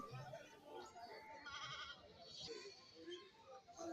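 Goats of various sizes at a Kerala livestock market give a few bleats in the background, faint and brief, mixed in with people talking nearby.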